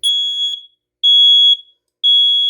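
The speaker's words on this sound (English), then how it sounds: "The alarm may sound." A smoke alarm in a basement blares in three loud, high-pitched beeps, each about half a second, separated by brief silences.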